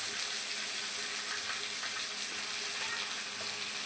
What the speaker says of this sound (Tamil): நல்லா வணக்கி விட்டுக்கலாம்.